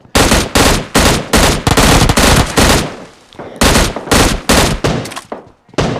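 Loud bursts of automatic gunfire from the video game Free Fire, a rapid series of close, punchy volleys with a brief lull midway before the shooting resumes.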